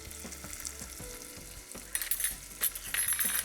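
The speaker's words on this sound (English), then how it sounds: "as the onion is getting cooked" Onion cooking in a pan for Kerala lobster curry, a soft sizzle under light clinks and scrapes of a utensil, with a few brighter bursts of spitting toward the end.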